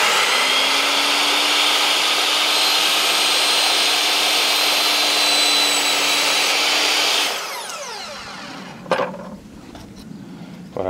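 A Bosch GCM 12 miter saw cuts through very soft wood with a loud, steady whine for about seven seconds. The blade then spins down, followed by a few faint clunks and handling sounds.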